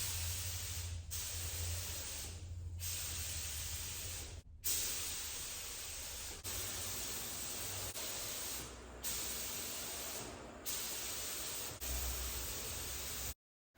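Spray gun laying down a first coat of paint on car parts, a steady loud hiss in long continuous bursts broken by brief pauses, with no talking.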